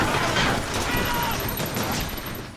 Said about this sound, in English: Sounds like a turret.